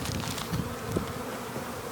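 Honeybees buzz continuously around an apiary hive in spring, a close, dense drone with individual insects whirring past nearby.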